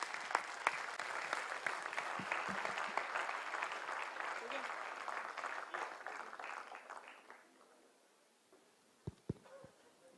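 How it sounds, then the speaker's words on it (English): Conference audience applauding warmly at a research conference, a dense sustained clatter of many hands for about seven seconds that thins and fades out, followed by a few scattered claps near the end. "A big round of applause for all of you."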